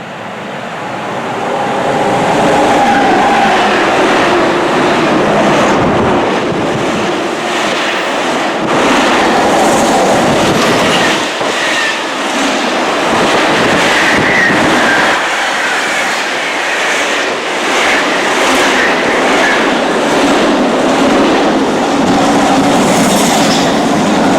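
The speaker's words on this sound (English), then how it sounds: "we still managed to ride behind 5 steam locomotives" A steam train rumbles loudly past a station platform on the Great Central Railway, a sustained heavy roar with rhythmic clatter of wheels, close by and filling the whole stretch.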